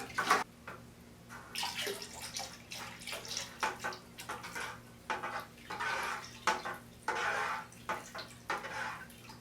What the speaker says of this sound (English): Next, we're going to add water up to this 6-gallon line.